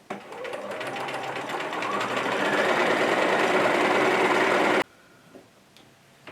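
A sewing machine stitches fabric for a small McCall's wallet or wristlet, running as a steady, close, rapid whir for several seconds before stopping abruptly, followed by faint handling noises.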